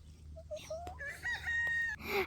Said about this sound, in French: c'est un peu ma poule coq